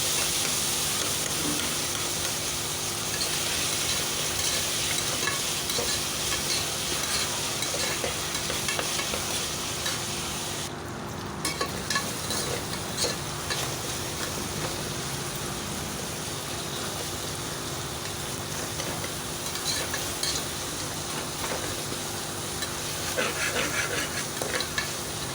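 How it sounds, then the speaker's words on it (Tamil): Tomatoes and onions sautéing in a pan for chickpea rice, a soft continuous sizzle with repeated scraping of a spoon through the mixture, close and fairly quiet with no talking. "நல்லா தக்காளியை போட்டு வதக்கிக்கணுங்க."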